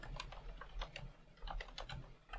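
Code is typed on a computer keyboard in quick, irregular bursts of crisp key clicks, close and faint, with a low hum underneath and no talking.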